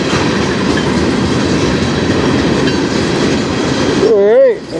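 A freight train passes close by on the Strathroy Subdivision, with a loud, steady rumble and clatter of wheels throughout, then a wavering tone near the end.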